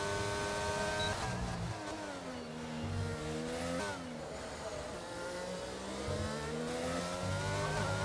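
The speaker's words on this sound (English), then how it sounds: "A Ferrari's come out of the pits." A Ferrari race car engine in the F1 22 video game rises and falls through steady revs as the car leaves the pits, with a loud, continuous buzzing pitch that climbs between gear changes and no speech over it.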